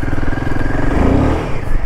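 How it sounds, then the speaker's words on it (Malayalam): A Royal Enfield Himalayan 450 motorcycle engine revs hard and close, its harmonic roar rising and falling in pitch over a steady loud drone, with no talk. "അത് നല്ലോണം റിങ് ചെയ്ത് മാത്രം ഓടിക്കുന്ന ഒരു എഞ്ചിൻ"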